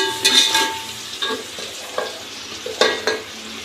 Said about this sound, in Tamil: தக்காளி போட்டு நல்லா கிளறி விடுங்க